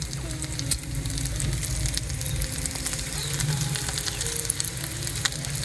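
Smoked streaky bacon from the supermarket sizzles and fries on a griddle in a Weber Summit Kamado grill, a steady close crackling hiss with scattered pops running throughout, no talking.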